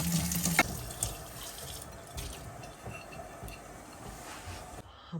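Tap water runs steadily into a kitchen sink while new dishes are rinsed, a continuous close splash with a brief louder burst at the start and soft clinks against the basin before the flow cuts off near the end.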